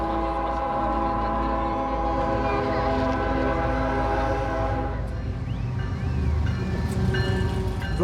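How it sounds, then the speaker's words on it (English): A freight train in Mexico approaches with a long sustained horn blast over deep rumbling engine noise and rolling wheels, loud and close, no talking. "So the train's coming."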